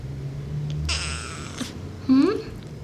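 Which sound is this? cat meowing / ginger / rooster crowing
cat meowing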